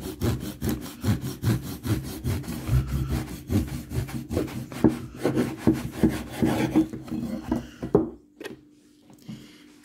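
A loaf of bread with a firm crust being sliced with a knife, a steady rhythmic sawing rasp of repeated strokes, close and fairly loud, ending in quiet after about eight seconds.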